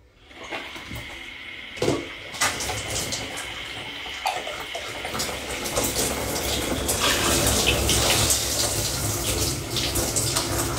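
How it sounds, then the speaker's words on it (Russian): Cold running water pours steadily onto hair during a final rinse, a continuous broadband splashing that grows fuller and louder over the second half, with a few brief knocks early on. "Я на всякий случай еще холодной водой пройду."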